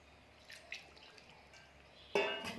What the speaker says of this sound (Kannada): ಈಗ ನೀರು ಹಾಕ್ಕೊಂಡು ಕಲಿಸ್ಕೊಳ್ಳೋಣ.